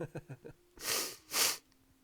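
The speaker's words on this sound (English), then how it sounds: "I always sneeze during my videos" A few soft voiced sounds lead into two sharp, breathy sneeze bursts close by, then quiet.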